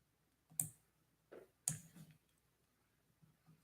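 A computer mouse clicks a few times in a quiet room, sharp isolated taps spaced irregularly with faint softer clicks in between, close but quiet, no talking.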